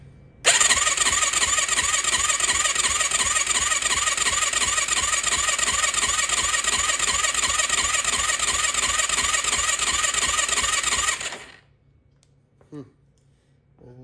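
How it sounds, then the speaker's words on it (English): A rebuilt 2004 Yamaha YFZ450 ATV engine, dry with a new oil filter, cranks on its first start with a loud, steady, rhythmic whir and whine for about eleven seconds, then cuts off into near silence. "That seems like a lot of cranking."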